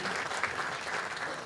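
Brief burst of audience applause at a school district's state-of-the-schools event, a dense, continuous patter of many hands lasting only a moment.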